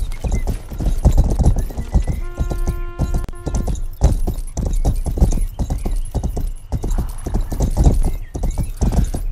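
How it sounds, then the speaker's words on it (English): Horse galloping in the medieval action game Rustler, steady rapid clip-clop of hooves throughout, with a brief whinny partway through, loud and close. "Oh damn, this horse is fast."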